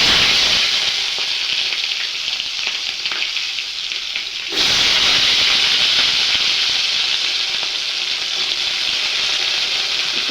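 Whole cumin seeds dropped into hot oil for chilli paneer: a loud, continuous sizzling hiss close by that briefly dips and then surges again halfway through, crackling steadily with no talk.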